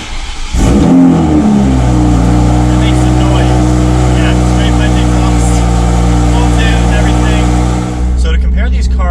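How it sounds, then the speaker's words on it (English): A Toyota A90 Supra fires up from cold with the door open, a sharp starter catch and flare, then a loud, steady high idle that drops slightly near the end as the revs settle. "So now in the Supra, we'll leave the door open and get a cold start"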